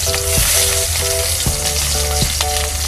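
Bata fish frying in mustard oil crackles and sizzles loudly and close, with a few brief clinks of utensils against the pan, no voices.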